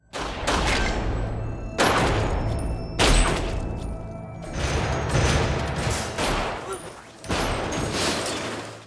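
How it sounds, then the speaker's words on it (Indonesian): Loud bursts of gunfire crack out repeatedly at uneven intervals, each one ringing out briefly before the next volley. "Bos V memberondong mereka dengan tembakan peluru"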